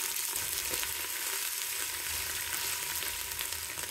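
Shallots, green chillies and curry leaves fry with a little ginger-garlic paste, producing a loud, continuous, close hiss of sizzling oil that stays steady throughout without any talking.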